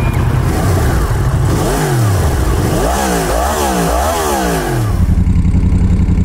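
A motorcycle ridden on a frosty day around minus one degree revs hard through several gear changes with rising and falling engine pitch, then settles into a steady loud drone. The engine is close and there is no talk.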